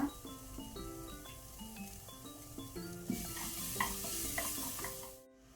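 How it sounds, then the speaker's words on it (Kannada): Chopped ginger and garlic pieces fry in a pan for mutton pepper masala, giving a close, steady sizzle with stirring and light utensil clinks, set under tonal background music. "ಈಗ ಇದನ್ನು ಸಹ ನಾವು ಒಳ್ಳೆ ರೀತಿ ಫ್ರೈ ಮಾಡಬೇಕು, ಶುಂಠಿ ಬೆಳ್ಳುಳ್ಳಿದ್ದು ಕಂಪ್ಲೀಟ್ ಹಸಿ ವಾಸನೆ ಹೋಗೋ ತನಕ."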